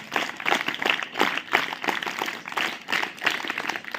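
Audience clapping along in a group, a steady dense patter of many hands with rhythmic swells, sustained throughout without voices.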